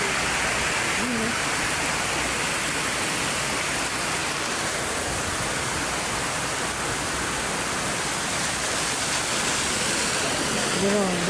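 Strong river current near Butalan Station rushing continuously as a dense, even roar of water, with faint voices in the background.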